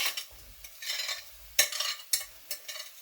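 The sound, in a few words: stirring onions in a pan for Spanish tortilla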